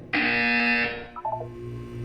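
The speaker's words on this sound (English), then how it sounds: "You will hear a buzzer." A harsh, loud electronic buzzer sounds in the Portal 2 video game, blaring steadily for under a second before cutting off into a few short tonal blips over a low hum.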